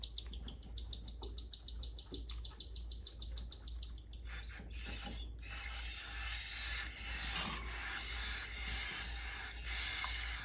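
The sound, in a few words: cockatiel chicks chirping while being fed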